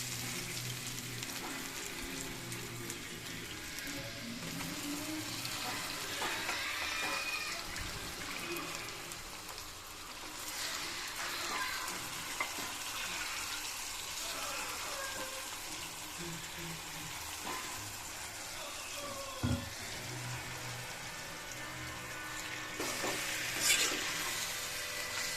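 Ginger garlic paste fries in a pan for a chicken curry, a low, continuous sizzle with occasional stirring scrapes and clinks, fairly quiet and close.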